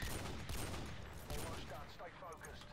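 Modern Warfare 2 Spec Ops gunfire, rapid loud volleys of close shots crackling one after another through the whole stretch, with brief bursts of talk mixed in.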